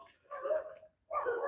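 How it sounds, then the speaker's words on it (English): Dogs bark in a city neighborhood in the Philippines, giving two sustained, moderately loud bursts separated by a brief pause. "Sorry, the dogs are barking"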